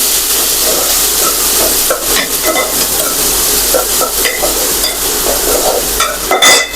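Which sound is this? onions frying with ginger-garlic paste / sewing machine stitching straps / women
onions frying with ginger-garlic paste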